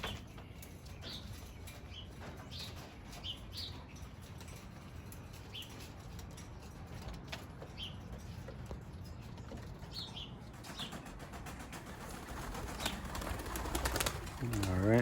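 Young 2021 racing pigeons out of the loft for the first time, with soft coos and brief bursts of wing flapping over steady outdoor background noise, a voice talking intermittently, and a louder rustle building near the end.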